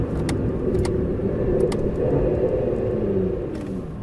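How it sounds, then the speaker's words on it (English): A 2017 Aston Martin Vanquish S engine rumbles steadily and fairly loud while downshifting from fourth to first gear, a continuous low drone with slight shifts in pitch and no voices. "4th to 1st in a matter of meters, and there was not one judder"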